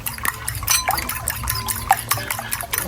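Three eggs beaten in a bowl, a quick irregular run of wet clicking and sloshing strokes close by, with no talking.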